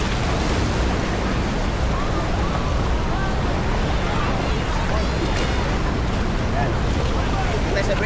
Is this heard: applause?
no